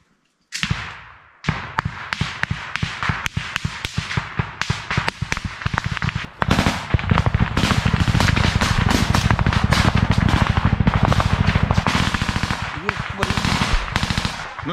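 Dense, rapid bursts of automatic machine-gun fire rattle on for most of the clip during combat in Robotyne, Ukraine, loud and close, after a brief pause near the start, with shouting buried beneath.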